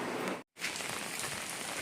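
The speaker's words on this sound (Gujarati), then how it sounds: "વરસાદ ચાલુ જ છે" Steady light rain patters continuously, broken by a brief moment of silence before the even hiss resumes.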